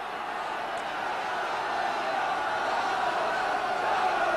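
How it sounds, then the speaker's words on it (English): Oldham Athletic's football crowd roars in support of their team at a match against Sheffield Wednesday, a steady, distant wash of massed cheering and chanting that swells slightly toward the end. "Oldham's crowd really getting behind their team now"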